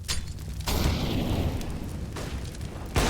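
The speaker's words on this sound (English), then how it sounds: "it's a great flashbang as well" A flashbang grenade goes off in a Counter-Strike match on Dust2, a loud, sustained broadband burst lasting a few seconds, followed by a second sharp hit near the end.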